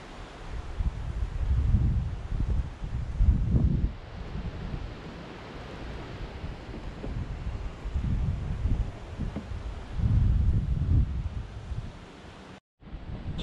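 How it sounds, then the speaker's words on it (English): Wind blowing through trees at a quiet fishing spot, a broad rushing noise that swells in gusts and falls back, with some rumble of wind on the microphone and no speech. "Trees absorbing all the wind."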